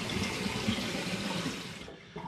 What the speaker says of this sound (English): Just going to give it the demijohn a rinse under the tap to get any sticky bits off